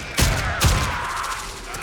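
Two sharp, heavy shotgun blasts from the Warframe video game, spaced about half a second apart, each booming and then fading into a lingering roar of game ambience.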